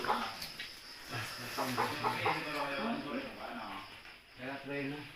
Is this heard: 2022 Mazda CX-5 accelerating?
no